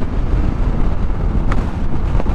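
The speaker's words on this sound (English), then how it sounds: "But that wind is shocking." Strong wind buffeting and roar while riding a Yamaha Tenere 700 World Rally motorcycle, loud and continuous with low rumbling gusts and no speech.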